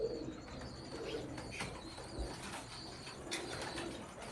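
Sialkoti pigeons cooing softly and intermittently amid a busy loft, with faint chirps and occasional wing flaps over steady background noise.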